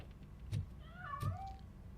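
A cat hidden inside a piano gives a drawn-out meow with a rising and falling tone, soft and slightly muffled, preceded by a couple of dull thumps.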